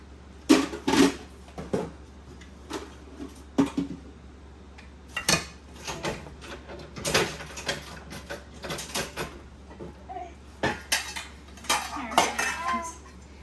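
A pot and its lids are handled while decluttering a cupboard, producing scattered metallic clanks, scrapes and knocks at close range over a low steady hum.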